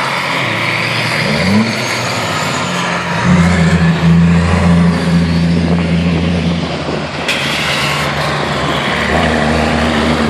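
Racing trucks at the Kent truck racing festival in 2015 roar past one after another, loud engines rising and falling in pitch as they accelerate by, with sustained droning throughout.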